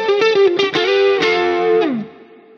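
Electric guitar played through an amplifier with a heavy 80s-style delay and compression, ringing sustained notes with echoing repeats that fade out at the end, loud and alone.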